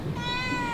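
A cat gives a single short, clear meow over low background rumble, close and distinct.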